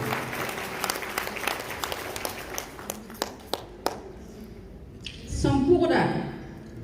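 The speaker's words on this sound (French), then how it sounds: "Encore plus d'applaudissements pour Mami Nana." An audience at an event applauds in scattered claps that fade out, with a few sharp single claps near the end; a voice talks over it and then speaks alone.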